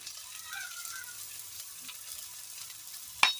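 Chopped ginger and garlic frying in a pan for a fish curry, giving a faint, steady background sizzle with a single sharp clink near the end and no talk.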